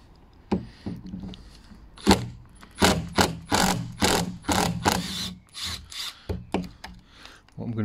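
A cordless drill driver fitted with a half-inch socket drive works hinge screws on a sticking door, buzzing in repeated short bursts of varying length with brief pauses between, close and fairly loud.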